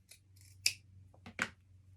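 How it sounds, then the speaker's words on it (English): Scissors snip through a fabric sleeve's underarm seam, a few quiet, close crisp cuts spaced apart over a low steady hum, with no speech. "After you cut that seam, underarm seam off,"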